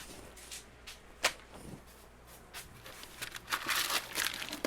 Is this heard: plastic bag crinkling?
yes